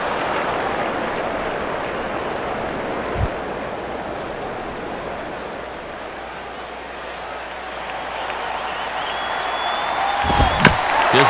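A baseball stadium crowd in MLB 09: The Show murmurs steadily as a broad, even roar, swelling slightly near the end, with commentary talk over it.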